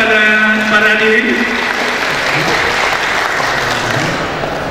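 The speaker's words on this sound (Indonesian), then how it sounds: "Tepuk tangan kepada para hadirin." Steady audience applause at a public debate between mayoral and deputy mayoral candidates in Dumai, a loud, continuous wash of clapping with a voice speaking over it at first.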